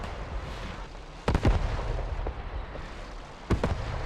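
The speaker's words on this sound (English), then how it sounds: "That's actually Zeus's artillery. That's actually Dream Team artillery called down by Zeus." Artillery shells exploding in the World War II shooter Post Scriptum, with two sharp booming impacts about two seconds apart over a constant low rumble of battlefield noise.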